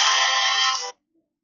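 A phone ringtone plays loudly and close, a dense bright electronic burst lasting about a second before cutting off abruptly into silence.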